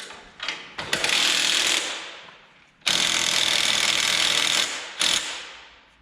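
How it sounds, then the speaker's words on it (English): A ratchet wrench clicks rapidly as a bolt is torqued down on a farm planter, two long bursts of fast metallic ratcheting with a short pause between, close and loud. "we just torque it to about 15 or 20 ugga-duggas"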